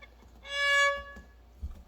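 One short, thin violin note, played with a finger placed too low, sounds briefly and fades quickly, followed by faint bumps and handling noise.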